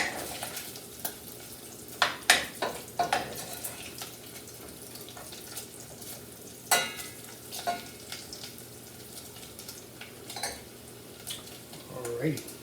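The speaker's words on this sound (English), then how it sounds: "you can see the bacon is beginning to render out nicely, and our cabbage is beginning to perk also" Bacon and cabbage fry on a stove with a soft sizzle, broken by clinks and scrapes of utensils against the pan, close and fairly quiet without talk.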